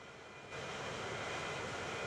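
In the Transport Fever 2 video game, an airplane comes in to land. A steady roaring jet drone swells louder after a moment and holds broad and constant, with no talking.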